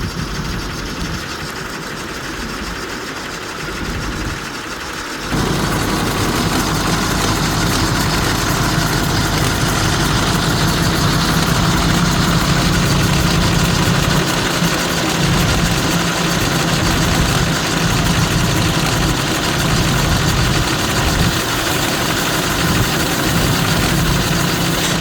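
A worn tipper truck engine idles rough and smoky, with a loud continuous low rumble that steps up and holds steady after a few seconds, with no talk over it.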